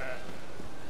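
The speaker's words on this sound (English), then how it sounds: "I hear sheep." A sheep in the video game Magicka bleats briefly at the start, a wavering cry over a steady background hum.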